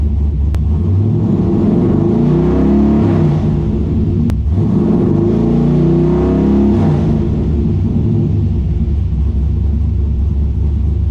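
A car engine running a Holley Terminator X fuel injection system cranks and fires, giving a loud steady low rumble with rising and falling revs throughout; no voices.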